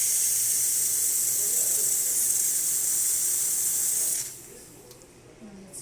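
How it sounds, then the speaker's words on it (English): The steam wand of an Expobar espresso machine, just serviced after a full tune-up, hisses steadily and loudly for about four seconds before cutting off to a quieter background. "And then I'll show you the steam."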